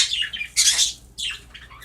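A pet bird named Charlie squawks in a bird room, three or four harsh, loud, close calls in quick bursts with short gaps between.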